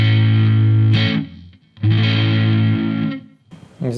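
Marshall Code 50 modelling amp set to a plexi crunch tone, with two loud overdriven guitar phrases of sustained chords separated by a short gap and a brief third strum at the end.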